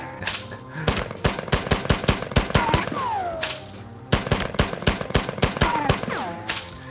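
Rapid bursts of gunfire from the video game Marathon, repeated sharp shots in quick runs with brief pauses, loud and close, plus a few descending electronic whines between volleys.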